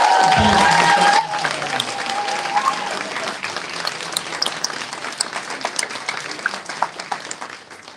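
An awards ceremony crowd gives a huge round of applause. Loud clapping with cheers swells in after a brief sustained tone at the start, then continues as dense, lively clapping with individual claps popping out, gradually thinning.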